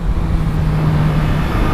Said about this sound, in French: Ah, j'adore ce moteur.